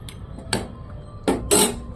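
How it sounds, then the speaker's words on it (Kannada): A few quick metallic clanks and clicks of a pressure cooker lid being set and locked in place, close by, with short gaps between them. "ಈಗ ಕುಕ್ಕರ್ ಮುಚ್ಕೊತೀನಿ"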